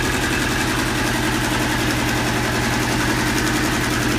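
A Yanmar YM146 diesel tractor engine idles close by, a loud, steady low chugging with rhythmic pulses and vibration, no talk.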